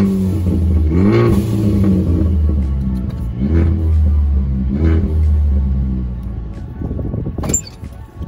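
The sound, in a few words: Ford Focus ST engine revving with blow off valve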